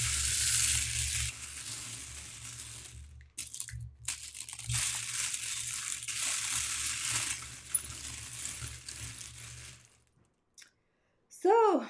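Divination shells shifted on a surface, a long crisp rattling and clattering that swells and fades, fairly close, with a short pause and a closing voice sound at the end.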